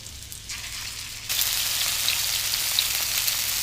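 Cold meatballs dropped into a hot pan, a quiet sizzle that suddenly swells into a loud, steady crackling fry partway through and keeps going with no talk over it.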